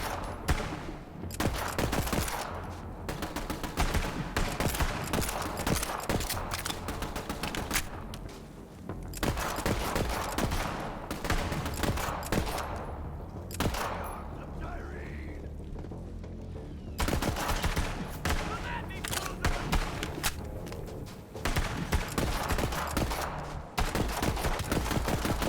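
Sustained rapid gunfire from a gun in the video game Borderlands 3 forms dense bursts of shots, loud and continuous across the whole stretch, with only brief lulls and no talk.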